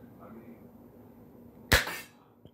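A mini pistol in a video game fires a single sharp, loud shot partway through, followed by a faint click, against otherwise quiet sound.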